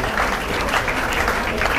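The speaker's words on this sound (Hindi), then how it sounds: "अरे ताली बजा दो यार" Steady applause from an audience at a coaching institute's test-series results event, dense and continuous at moderate loudness with no pauses.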